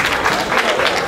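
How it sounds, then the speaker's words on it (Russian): An audience at a children's choreography competition breaks into loud, dense applause that fills the room up close, with a murmur of voices mixed in. "А ваши аплодисменты очаровашки!"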